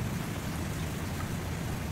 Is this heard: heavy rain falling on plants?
yes